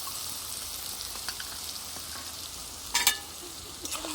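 Browned onions fry in a pan with garlic and ginger paste, a soft steady sizzle with a sharper scrape of stirring near the end.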